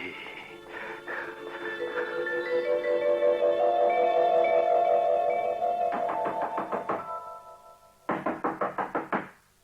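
Knocking on a wooden door in a Hindi radio drama set on a dark, cold night: a long held tone fades, then a brisk series of about five knocks, a pause, and a second quick burst of knocks, close and clear.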